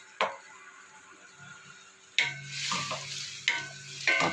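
Sardines being stirred and mashed into sautéing bottle gourd with tomato in a pan, a spoon clacking against the pan followed by bursts of loud sizzling and scraping, close and without talk.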